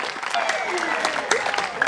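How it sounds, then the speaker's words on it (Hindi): Applause from the audience at a cultural program by Team Punjab during Murthal Mahotsav, moderate clapping with tonal music or voices lingering over it and a few sharper claps. "जोरदार तालियां, जोरदार तालियां"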